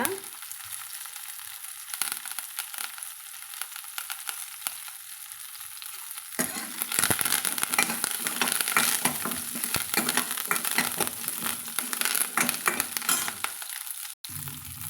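Onions and curry leaves sauté in a hot pan for a chow chow kuzhambu, a quiet start giving way to loud, steady sizzling and crackling frying with stirring, heard up close with no talking.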